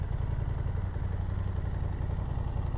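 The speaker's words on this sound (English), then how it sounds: "Here we have the privilege of riding the new Honda Hornet" A 2023 Honda Hornet 750cc parallel twin motorcycle engine running steadily while riding, a low, even throbbing drone heard close and continuous with no talk over it.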